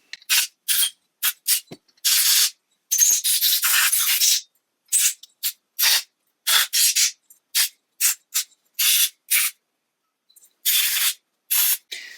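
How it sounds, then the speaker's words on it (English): Short, sharp bursts of compressed air blast through the holes of a Stromberg CD150S carburettor from a 1969 Triumph GT6, irregular hisses of varying length separated by silence, close and fairly loud. "So first thing I am going to do is blow through all the holes."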